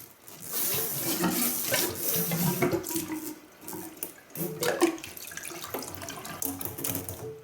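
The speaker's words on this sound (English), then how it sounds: "Fill that with a little bit of water." Water runs from a tap in uneven splashing gushes, close by, as a CPAP tube is filled and sloshed under the stream.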